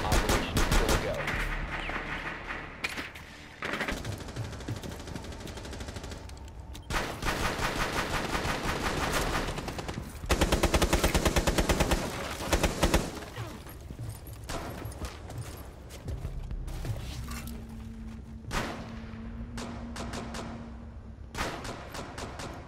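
Gunfire from Rainbow Six Siege, a tactical shooter, with repeated bursts of shots and automatic fire in loud clusters across the stretch, pausing briefly and resuming, over constant game noise.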